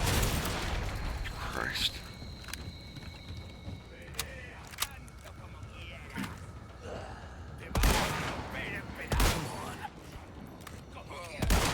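Gunshots from a gun being fired during an animation progress stream: several sharp, loud cracks spaced irregularly, with a couple close together near the end, over quiet background and brief vocal sounds.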